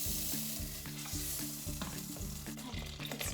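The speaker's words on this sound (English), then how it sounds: "I'm melting the butter." Butter melts and sizzles over medium heat in a deep wide pan, a steady, close frying hiss with soft stirring scrapes, backed by a repeating musical pattern.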